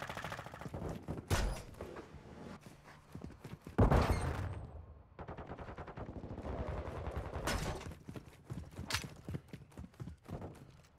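Bursts of SMG fire from Call of Duty Modern Warfare II multiplayer rattle out in several rapid volleys separated by short gaps, with a couple of heavier booming hits, fairly loud and steady across the stretch.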